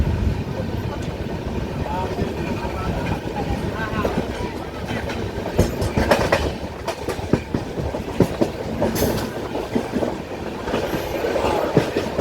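Hazrat Nizamuddin Express rolling past a railway crossing on the Konkan route, a continuous close rumble of wagons with rhythmic clickety-clack wheel beats and sharper clatters toward the end, with voices talking over it.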